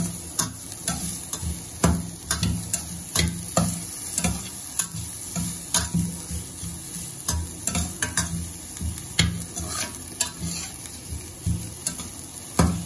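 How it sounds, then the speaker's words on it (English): A spatula repeatedly scrapes and taps a pan as tofu and red chilies are stirred over a light sizzle, giving a steady, fairly close clatter. "Stir it."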